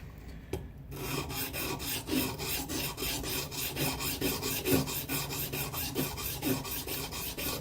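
A Mora knife's Scandi-ground blade is being sharpened on a ViperSharp, giving a steady run of rhythmic rasping strokes, close and fairly loud, repeated evenly after a short quiet start, with no voices.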